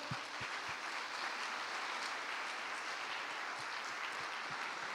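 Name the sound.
church congregation applauding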